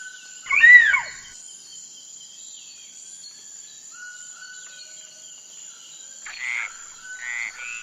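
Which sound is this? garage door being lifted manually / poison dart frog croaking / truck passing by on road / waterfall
poison dart frog croaking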